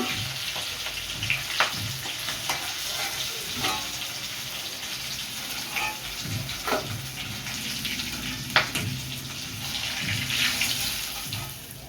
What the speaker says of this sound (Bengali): দেখুন, এমনি করে সব মাথাগুলো আমি ভেজে নেব।